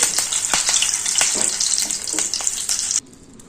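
Curry leaves and poha sizzling in hot oil for a snack chudwa, a loud bright crackle with stirring scrapes, then cutting off abruptly near the end.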